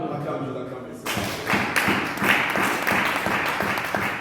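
A church congregation breaks into applause and cheering after a quieter opening, a dense, steady wash of clapping that carries on to the end, with a voice speaking over it.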